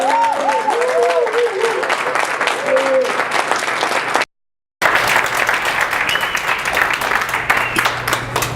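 Audience applause fills a library at a spoken-word event, dense steady clapping with a voice speaking over the start, then a brief cut before the clapping resumes, loud and close throughout.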